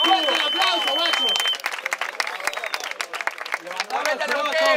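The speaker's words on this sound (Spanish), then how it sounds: "¡Fuerte el aplauso, guacho!" A crowd at a freestyle rap battle claps and cheers in a noisy, uneven burst. Someone shouts loudly over the crowd at the start and end.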